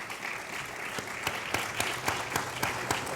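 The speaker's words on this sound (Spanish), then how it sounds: "Un aplauso" An audience at a panel on Madrid's city trees and the Metro Line 11 campaign applauds steadily, a dense even wash of many hands with a few sharper claps standing out, heard from a distance without talk.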